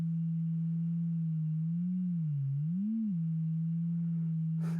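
A single sustained Argon8 synthesizer note, smooth and pure, wobbling up and down in pitch from bending modulation before settling steady, fairly quiet and alone.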